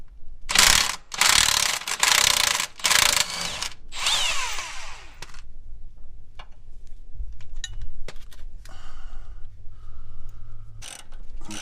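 A hand ratchet backing out a bolt on a Jeep Wrangler JL front lower control arm: loud, rapid clicking bursts close by, then quieter intermittent clicks and metallic taps.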